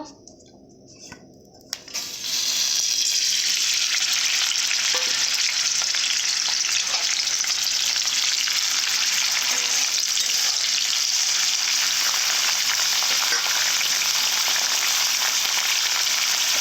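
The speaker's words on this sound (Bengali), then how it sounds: "প্রথমে উচ্ছেগুলোকে আমি ভেজে নেব" Bitter gourd pieces fry in hot oil with a loud, steady sizzle that starts abruptly after a brief quiet moment and carries on unbroken, close by, with no voices.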